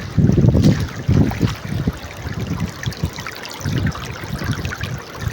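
Water flowing out toward the sea at a beach resort, a steady rushing wash with surging low bursts, mixed with wind buffeting the microphone and no one talking.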